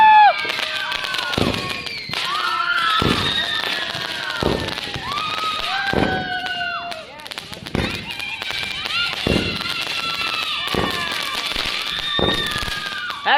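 Diwali firecrackers burst in quick succession, loud nearby bangs and crackles among whistling, rising rockets, with people talking and shouting throughout.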